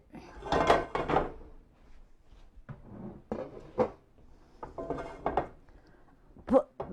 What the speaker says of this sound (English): I've got some butter here. I'm going to put this in the skillet.